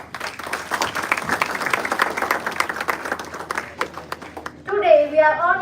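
Audience applause for Dr. Aprajita Prasad at an institute event, a dense, steady clapping from many hands that carries on for several seconds and then gives way to musical tones near the end.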